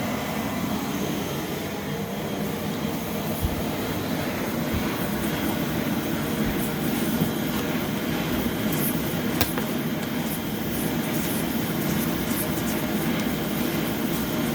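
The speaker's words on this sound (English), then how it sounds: "Man, this is speed vacuuming." A vacuum cleaner with new bearings running steadily, a constant smooth loud whir and hiss that holds level throughout with no talk over it.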